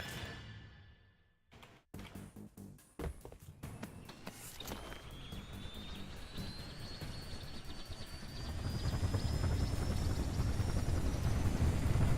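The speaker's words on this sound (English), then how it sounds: "if I'm in a Falcon flying through this, then that means I can destroy them as I fly" Falcon aircraft in Halo Reach flying among destroyable buildings, a rising rotor and engine whine with a building rumble and clattering impacts, growing louder toward the end.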